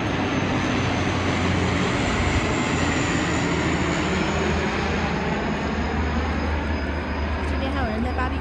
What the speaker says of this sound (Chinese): 哇，这有一架飞机。